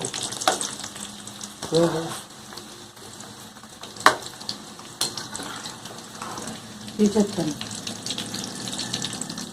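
Whole spices tempering in hot oil for an amla (gooseberry) pickle, a steady frying sizzle with occasional stirring clatters and water-like crackles throughout, close and moderately loud.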